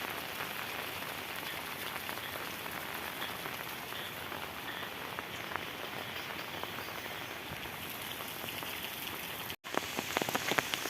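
Rain falling on a road during a walk in Kerala, a dense steady patter of drops close by, continuous throughout with a brief dropout near the end and no talking.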